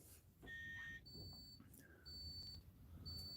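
An electronic paranormal detector, a red air flux device, beeps in a series of short, high-pitched tones, some paired, repeating at irregular intervals over a quiet, faint background.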